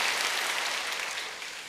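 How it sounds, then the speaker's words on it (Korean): A church congregation at a creation science seminar claps together in thanks, a dense, even wash of applause that holds steady and tapers slightly toward the end. "하나님께 감사의 박수 하겠습니다"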